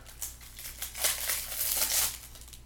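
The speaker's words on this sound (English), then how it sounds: "you got these Flair cards in this plastic, and I'll bust it open here" Plastic wrapping around a pack of Flair trading cards being torn open by hand, a close, continuous crinkling and rustling that swells and crackles for a few seconds with no talking.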